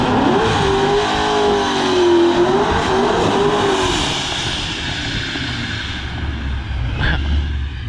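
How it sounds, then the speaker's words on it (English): ProCharger-supercharged drag car making a pass at a drag strip, a loud engine roar with a rising and wavering supercharger whine that fades somewhat toward the end as the car pulls away. "I do love the sound of Pro Chargers. They just sound freaking nasty."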